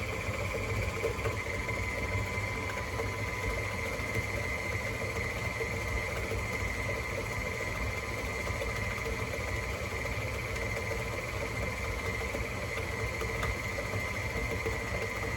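An electric mixer runs in third speed, beating homemade chocolate chip cookie dough, a constant close motor whir and hum with a steady tone that holds evenly throughout and never stops, with no talking.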